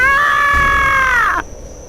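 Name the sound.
woman screaming loudly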